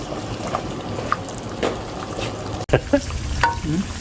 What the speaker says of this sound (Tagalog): luto po si Kabosing ng pritong tokwa